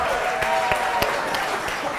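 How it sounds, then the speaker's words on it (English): An audience claps steadily for chefs at a cooking showdown event, a dense continuous applause with no pauses. "Let's start clapping for them now."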